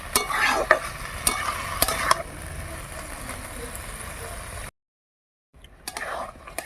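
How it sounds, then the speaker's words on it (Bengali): Banana flower stir-frying with spices in a pan, with repeated sharp scraping and clanking of a spatula stirring, then a brief silence before sizzling resumes. "মশলা মোচা দিয়ে কষে নিলাম ভালো করে"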